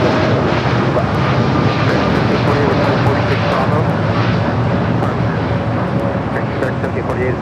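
An airliner rolls down runway 25 right at LAX with a loud, steady broadband engine roar that holds for the whole stretch, while radio and commentary voices talk over it.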